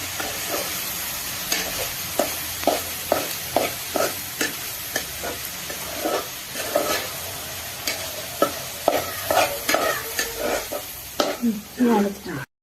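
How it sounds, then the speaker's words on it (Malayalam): Banana flower thoran, a homestyle vazha koombu dish, gets stirred in a pan after ground coconut paste goes in: repeated close scraping strokes in a steady rhythm over a soft continuous sizzle. "അരപ്പിട്ടത് ഒന്ന് ഇളക്കാം ഇളക്കി കൊടുക്കാം"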